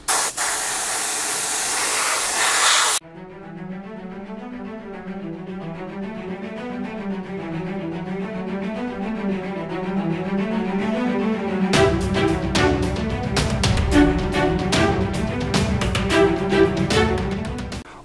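Airbrush or spray can applying white paint to a 1/35 scale Tamiya Panzer III Ausf.L model tank, a steady close hiss that cuts in and out in bursts, with music playing throughout.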